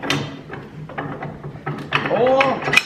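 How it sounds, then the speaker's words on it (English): Metal receiver hitch sliding onto a tractor drawbar pin, giving short scraping and clunking metallic knocks over a few seconds, close by, with a voice talking over it. "Take your 2-inch receiver hitch, slide it on, find the hole"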